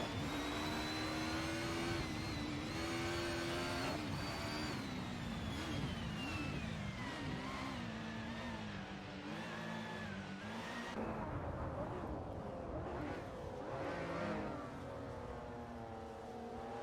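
Race car engines from an AI racing simulator video game with retro supercars, rising and falling in pitch as several cars rev and accelerate continuously, loud and dense throughout with no talking.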